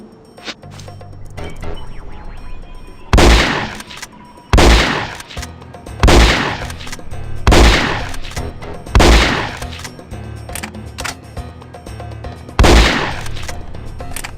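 Sniper rifle shots in the video game No One Lives Forever 2, six loud, evenly spaced cracks roughly a second and a half apart, each ringing out briefly over quiet background ambience.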